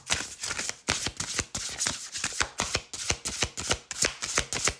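A deck of animal oracle cards is shuffled and handled at close range, producing a rapid series of crisp papery flicks and riffles in an uneven but steady rhythm, with no talking.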